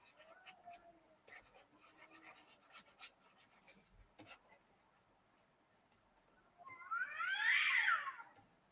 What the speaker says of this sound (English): Okay, that's a cat.